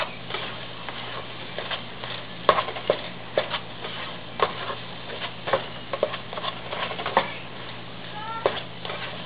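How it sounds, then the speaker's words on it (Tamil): Beans and egg poriyal stirred in a pan, a spatula scraping and tapping the metal in quick irregular strokes, fairly close and moderately loud, with no voice over it. "ஒரு 1 நிமிஷம் நல்லா இந்த மாதிரி கிளறி விடுங்க."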